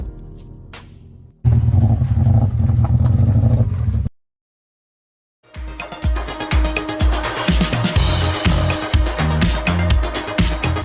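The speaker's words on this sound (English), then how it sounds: "I will now play the clip again so you can hear the Peugeot. It almost sounds like it's running on 3 cylinders." A Peugeot engine in a stroked flat-four build, running rough and uneven as if firing on three cylinders, with a loud rumble, an abrupt silent gap, then a lumpy, stuttering drone.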